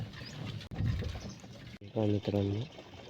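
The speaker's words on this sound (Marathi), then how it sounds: "पाणी चालू आहे बघा वावरामध्ये" Water gurgles and flows through a farm field nearby, then someone speaks loudly over it near the end.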